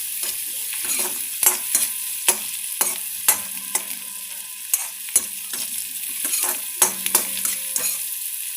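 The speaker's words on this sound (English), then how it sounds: "The onions are almost done. I'll just quickly roast them for a brown effect." Onions fry in a pan under a steady, close sizzle while a spatula stirs them, its scrapes and sharp taps against the pan landing at irregular intervals.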